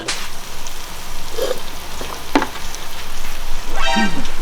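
Eggs stir-fried in a hot pan for pad thai, with a steady loud sizzle and occasional scraping stirs throughout.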